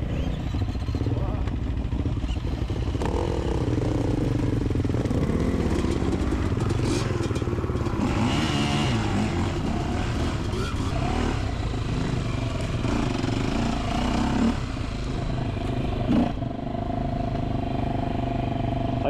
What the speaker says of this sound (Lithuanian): Bet tai įdomiai tas variklis dirba,